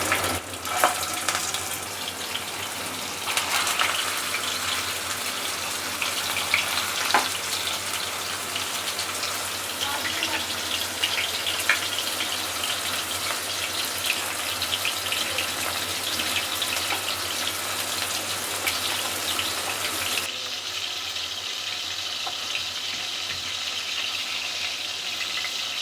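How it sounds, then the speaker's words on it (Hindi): Chicken pieces deep frying in hot vegetable oil in a kadhai over a gas flame, a steady loud sizzling hiss that runs throughout and softens slightly near the end, with no talking. "इसे हमें डीप फ्राई करना है।"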